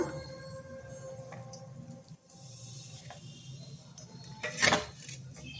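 A plate and then a weight are set down on cloth-wrapped paneer in a home kitchen, giving soft clinks and light scrapes with one sharper clatter near the end, fairly quiet against low background hum.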